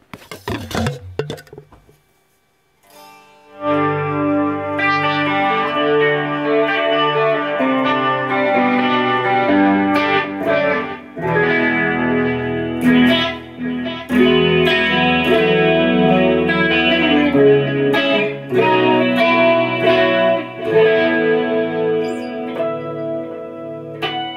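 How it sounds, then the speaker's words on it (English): Electric guitar chords ring out lush and shimmering with chorus, echoing delay and reverb, sustaining after a short quiet start. "I've added chorus, delay, and reverb. So now you can hear what that sounds like."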